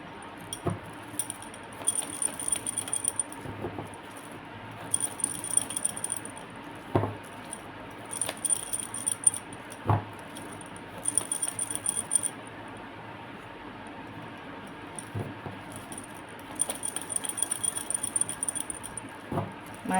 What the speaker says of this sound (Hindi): my last shuffle